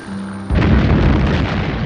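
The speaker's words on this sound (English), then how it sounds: "That explosion was a little unconvincing too" A film explosion from the 1971 James Bond movie Diamonds Are Forever bursts in abruptly after a quiet, tonal lead-in, then rolls on as a loud, sustained rumbling roar.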